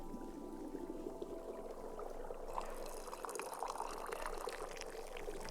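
Liquid pours steadily into a cup in the video game Wanderstop, a continuous trickling fill that runs close and clear with no talking over it.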